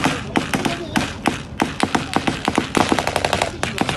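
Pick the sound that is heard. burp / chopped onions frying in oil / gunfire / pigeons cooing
gunfire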